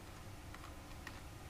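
Computer keyboard keys are typed during a Windows reinstall in a command prompt, a few faint, quick clicks over a steady low background hum.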